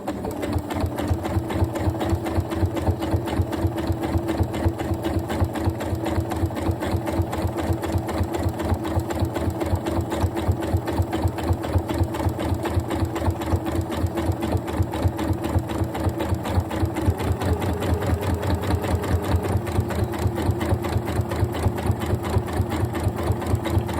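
A Janome Horizon Memory Craft 9480 QC Professional sewing machine with its AcuFeed system stitches steadily, a fast, even needle chatter and motor hum running close and continuous with no pauses.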